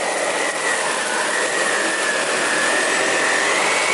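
A SEBO K3 German-made canister vacuum cleaner runs steadily and loudly, with a constant broadband whoosh and a faint whine that drifts slightly in pitch, close by with no talking.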